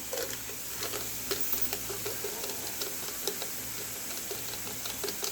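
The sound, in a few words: sautéing vegetables on a dosa griddle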